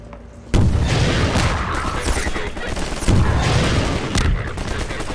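Dense, continuous gunfire with heavy booming rocket blasts, loud and close, with a few sharp bursts standing out over the roar of a Half-Life 2 battle.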